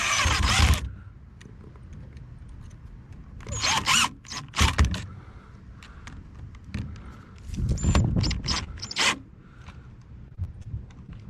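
Power screwdriver driving screws into plastic, several short whirring bursts separated by pauses, each with a creaking, ratcheting quality as the screws tighten, heard close and without talk.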